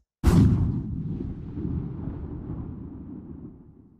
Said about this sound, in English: a far-away gunshot will sound like this